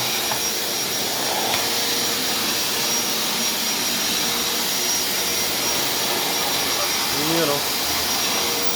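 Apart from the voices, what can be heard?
Black & Decker vacuum cleaner running in gym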